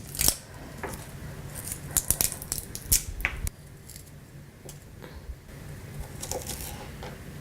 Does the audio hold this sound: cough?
no